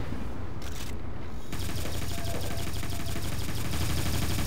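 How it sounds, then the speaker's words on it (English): A chain gun in Tribes 2 spinning up into a rapid, unbroken stream of loud mechanical firing that hammers on steadily for several seconds. "Craze cranking up the chain gun"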